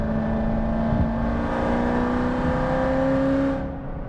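2023 Chevrolet Corvette C8 pulling hard in fifth gear, a loud, close engine drone rising slowly in pitch under steady road noise before easing off near the end.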